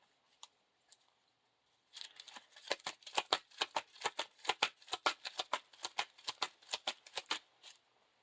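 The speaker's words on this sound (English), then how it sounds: "Shuffle the encounter deck." An encounter deck of Lord of the Rings card game cards shuffled by hand, a couple of isolated taps followed by a rapid, crisp series of snapping riffles and card slaps, close and clear.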